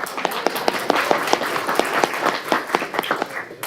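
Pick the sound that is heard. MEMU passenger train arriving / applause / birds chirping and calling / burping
applause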